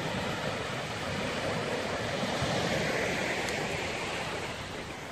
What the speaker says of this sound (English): this is the sea of Belgium